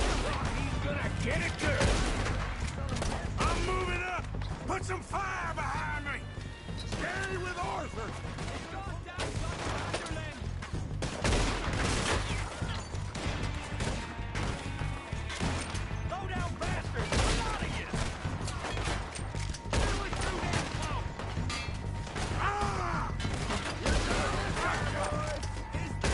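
A Red Dead Redemption 2 shootout with the O'Driscolls rages in sustained gunfire, rapid overlapping shots and cracks from several guns with bullet impacts and shouting voices mixed through the whole stretch.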